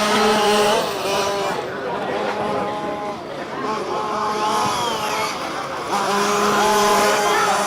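Race cars sweeping through the carousel on a racing circuit, engines roaring and fading as they pass with some tire squeal, heard under continuous live commentary.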